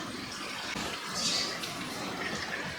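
Water is drawn out of a small nano aquarium tank with a handheld manual pump, giving a steady close hiss and gurgle of flowing water with no talking over it.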